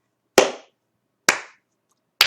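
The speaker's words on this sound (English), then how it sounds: "Slow, incredibly sarcastic clap." Three slow, deliberate hand claps spaced about a second apart, each sharp and close with a short ringing tail, sarcastic in pace, with silence between.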